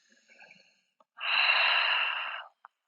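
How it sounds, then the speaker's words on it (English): An audible ujjayi yoga breath drawn through a constricted throat comes as one long, hissing, airy exhale of just over a second, close and fairly soft, framed by faint quieter breaths and a small click. "Using the constriction through the back of our throat to make this breath audible."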